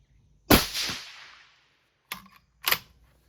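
A 22 ARC rifle fired at a target outdoors: one loud sharp crack with a short decaying tail, then after a pause two quicker, fainter sharp reports close together.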